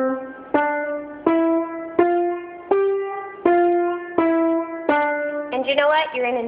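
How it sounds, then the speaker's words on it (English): Piano playing the beginner piece Little River in a detached, non-legato style: seven separate struck notes evenly spaced and each allowed to ring and decay, then a quicker cluster of notes at the end, clear and close. "if we did not play legato, it would sound like this."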